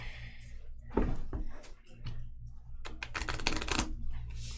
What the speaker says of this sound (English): I need one more card, so I got to shuffle the discards.